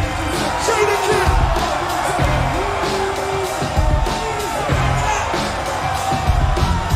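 A large hip-hop concert crowd roars and cheers as a rapper comes on stage, a dense, loud wash of yells and whoops that swells in waves and runs without a break.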